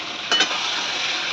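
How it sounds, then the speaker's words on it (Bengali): Meat frying in a pan with cumin and coriander powder in a home kitchen, giving a steady, close hiss of sizzling oil with a brief stirring scrape early on. "এখন মাংস ভাজা হচ্ছে"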